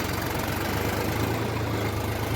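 A tractor engine runs close by at a steady idle, with a low, rhythmic, slightly knocking chug that holds level throughout.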